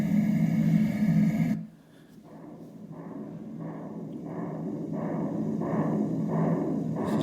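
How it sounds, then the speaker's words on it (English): Heartbeat setting on an ICETEK white noise machine: a steady, loud, close thumping pulse repeating about twice per second over a constant hiss, after a brief switch from a louder noise setting. "this is supposed to be a heartbeat."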